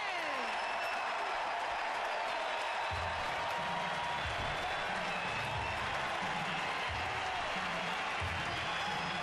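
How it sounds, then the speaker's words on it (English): Stadium crowd at a Padres–Giants baseball game in San Francisco applauds pitcher Jonathan Sanchez, a steady broad wash of clapping and crowd noise with murmuring voices mixed in throughout. "listen to the applause for Jonathan Sanchez"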